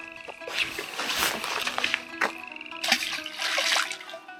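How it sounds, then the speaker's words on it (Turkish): Frogs croak near water along the Lycian Way between Çitdibi and Geyikbayırı, their repeated calls mixing with a trickling, gurgling stream at moderate distance. "Kurbağa sesi değil mi onlar?"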